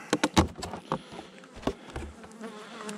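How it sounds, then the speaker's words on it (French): A wasp buzzes close by at a beehive in early spring, the hum rising and falling amid a few sharp clicks and taps near the start. "Ah, la guêpe, c'est molle, hein."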